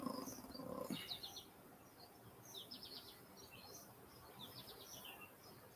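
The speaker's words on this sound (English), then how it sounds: "Now we can actually hear the birds" Several short bursts of bird chirps and tweets outdoors, scattered across a quiet background with faint insect buzz; a brief rustle or voice-like murmur near the start.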